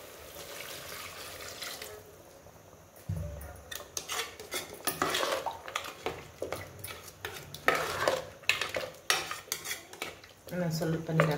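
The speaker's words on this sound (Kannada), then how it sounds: "ಇವಾಗ ಮಿಕ್ಸ್ ಮಾಡ್ಕೊಬೋಣ" A spoon scrapes and clatters against a pan while curry is stirred, in quick irregular metallic knocks and scrapes over a soft sizzle, close and moderately loud with no talk.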